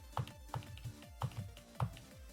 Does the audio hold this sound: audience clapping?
no